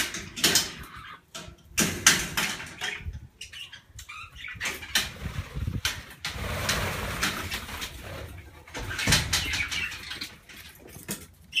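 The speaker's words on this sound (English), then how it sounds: "Now here's my aviary, and I've got 16 budgies." Sixteen budgies in an aviary give scattered, close chirps and scratchy rustles in uneven bursts, with flapping and pattering noises between them.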